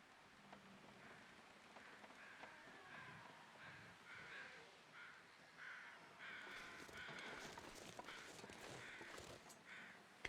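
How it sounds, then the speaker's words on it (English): Crows caw repeatedly in the snowy wilderness of the survival game The Long Dark, harsh calls coming in short bursts over a soft, constant hiss like rain or wind, growing busier toward the end. "Okay, I'm hearing crows."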